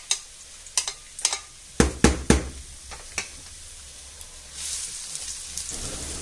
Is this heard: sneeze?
no